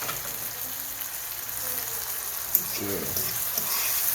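Saltfish and red herring sautéing in hot oil for ackee and saltfish, a continuous soft sizzle and crackle with a sharp clink partway through, while a voice briefly speaks.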